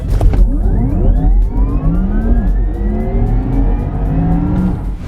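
A synthetic, whirring engine-like tone from a Porsche Taycan 4S electric car sweeps upward in pitch like a vehicle accelerating, with layered rising harmonics over a low rumble.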